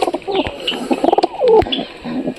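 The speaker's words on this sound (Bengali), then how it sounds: "সব কবুতর ধীরে ধীরে নামতেছে" Domestic pigeons in a backyard loft coo repeatedly at close range, with soft, throaty, overlapping calls in an uneven rhythm and no talking.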